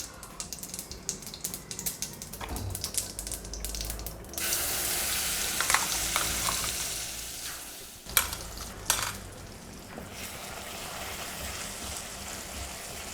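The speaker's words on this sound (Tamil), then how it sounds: "ஜஸ்ட் ஒரு 2 மினிட்ஸ் இதை நல்லா வதக்கினேன்னா அந்த வாசனையாக நல்லா இருக்கும்" Red chilli chutney sautéing in a pan gives a low sizzle with scattered stirring clicks at first, then a louder continuous hiss as it fries, interrupted by a few knocks and scrapes of the spoon.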